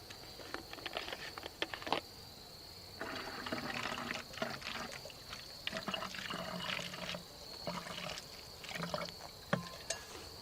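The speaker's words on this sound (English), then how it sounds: "I'm going to pour this into a clean bottle" Purified water pours from a container into a clean bottle outdoors in the bush, a soft, uneven trickle and splash in several short runs with gaps between, quiet and close against a faint high background hiss.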